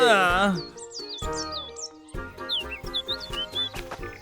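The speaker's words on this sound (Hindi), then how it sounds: "ये चिड़िया, चुप हो जाओ। चिक चिक बंद करो।" Bright chirping bird calls repeat rapidly over a busy cartoon-like background with music tones, lively and close, in a Hindi-dubbed children's cartoon.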